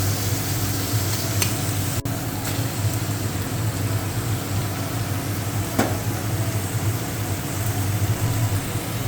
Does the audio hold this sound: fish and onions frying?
yes